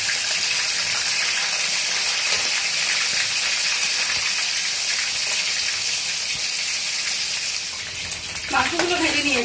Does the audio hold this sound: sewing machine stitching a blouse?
no